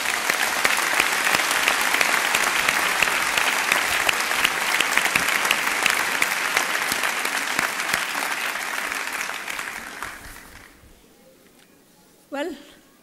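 Sustained, loud applause fills an awards ceremony hall in Athens, dense and even for about ten seconds before tapering off into quiet, with a brief voice near the end.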